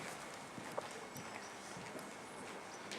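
Horse hooves clip-clop faintly on arena ground during a dressage session, soft irregular footfalls at a distance.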